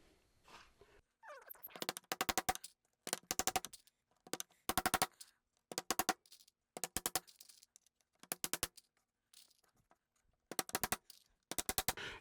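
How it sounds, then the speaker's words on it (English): Nails are hammered into the wooden lid of a replica WWII ammo box: sharp, loud, close blows land in quick bursts of three to five strikes, with short silent gaps between about nine separate groups. "So let's do some nailing here."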